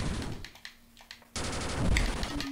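Rapid machine gun fire from the video game General Chaos bursts in loudly after a quieter stretch of softer game sounds, continuing as dense, sustained rattling to the end.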